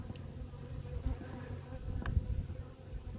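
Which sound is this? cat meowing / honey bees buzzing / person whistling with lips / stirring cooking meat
honey bees buzzing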